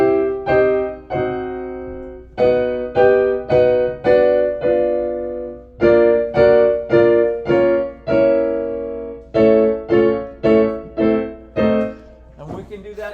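Piano plays a four-chord progression of block triads, each chord struck in short repeated groups with brief pauses between phrases, clear and close with no talking.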